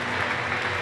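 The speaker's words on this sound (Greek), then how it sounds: "Και τώρα ο κόσμος χειροκροτά" A dense, steady wash of crowd applause fills a veterans basketball game between Greek veterans' sides, including Ellas Korinthou, holding at an even, loud level for the whole brief moment.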